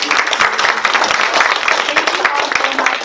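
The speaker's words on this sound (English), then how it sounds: "can we have a huge round of applause?" An audience at a real estate investing meetup applauds in a steady, dense wash of clapping that stays loud and close for several seconds, with no clear break.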